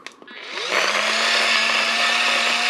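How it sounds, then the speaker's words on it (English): A USB-powered electric coffee grinder switches on and whirs steadily, a close, loud high-pitched motor drone that holds constant after a brief start-up. "So I'm going to go ahead and turn it on here"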